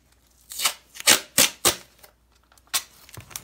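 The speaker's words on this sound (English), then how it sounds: "Just kind of tape off." Tape is pulled and torn off a roll while masking the pickup and bridge of an Epiphone Junior electric guitar, giving several sharp ripping bursts close up in an uneven rhythm with quiet gaps between.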